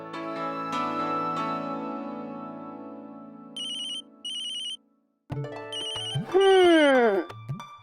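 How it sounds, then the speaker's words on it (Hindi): A phone rings with an incoming call in a domestic TV drama scene, sounding as bursts of electronic ringtone pulses that start after a sustained musical tone and come back over a swelling dramatic sting. "ये देखो आ गया पापा का फोन।"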